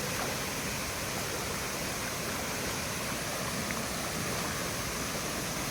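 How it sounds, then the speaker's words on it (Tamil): Lakkam waterfall in Munnar pours as a constant, dense hiss of falling and rushing water, steady and unbroken, with no voices over it. "இங்கேருந்து இந்த அருவியை பார்க்குறதுக்கு கொள்ளை அழகாக இருக்குது"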